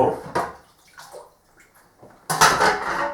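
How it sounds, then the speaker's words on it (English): A soaped item is rinsed in a tub of clean water outdoors: a few soft splashes and drips, a quiet gap, then a loud burst of sloshing and pouring water close by. "In the clean water, rinse it off."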